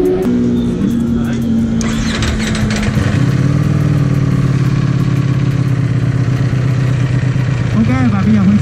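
A Ducati Panigale V4S motorcycle engine running on a test ride, a steady loud mechanical drone that shifts in pitch and rises near the end, close by with a voice speaking over it.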